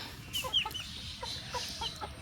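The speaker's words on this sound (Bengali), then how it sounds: "আমার যে ফার্মি মুরগিগুলো আছে সেগুলো ফার্ম থেকে বাইরে বের করে দিয়েছি" Several broiler chickens clucking softly nearby outside their farm shed in the morning, with scattered short chirps and calls over a quiet background.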